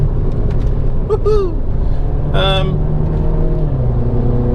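A Mini JCW, the F56/F57 generation, pulls hard in third gear, its exhaust a steady, loud engine drone under acceleration as pitch slowly climbs, with a brief shout of excitement and some cabin chatter over it.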